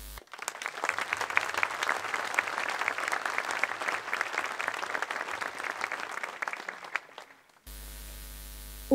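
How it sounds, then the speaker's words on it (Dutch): A large audience on an outdoor town square applauds at an evening passion play with orchestra and passion choir, a dense steady clapping that lasts about seven seconds and then stops abruptly. "Applaus, heer."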